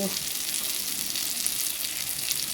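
Lightly boiled young jackfruit from a home tree sizzles in a frying pan, a dense, steady, close hiss of frying throughout the short stretch without speech.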